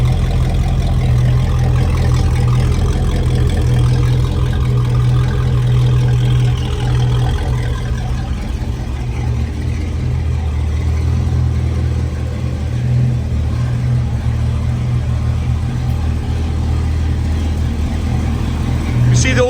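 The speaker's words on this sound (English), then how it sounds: "Side exit exhaust coming up down here." A 1976 Dodge D300 dually truck idles with a steady low rumble from its side exit exhaust, close and continuous throughout, while a person talks over it.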